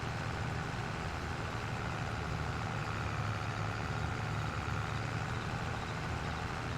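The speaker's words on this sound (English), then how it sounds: "This tractor's got a really nice sound to it." A tractor engine in Farming Simulator 22 drones steadily and evenly, a dense continuous low rumble at moderate level with no pauses and no talking.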